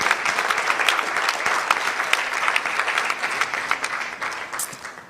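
An audience at a school quiz championship launch applauds with dense, sustained clapping that fades slightly toward the end, with almost no talk.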